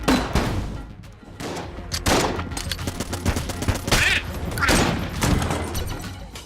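M16 fire in Enter the Gungeon on Nintendo Switch, with close, punchy shots in quick strings and short bursts spread through the clip, some louder blasts standing out.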